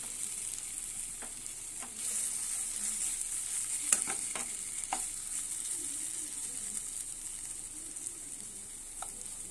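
A filling for parathas fries in a pan, a quiet continuous high sizzle with occasional light taps and scrapes from stirring.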